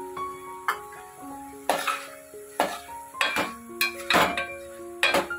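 Drumsticks being stirred into tomato in a metal pan, with repeated sharp clinks and scrapes of a spoon against the pan, close and fairly loud, and a faint sizzle underneath.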